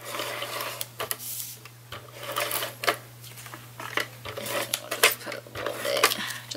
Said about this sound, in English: I'm just going to use my ATG for this part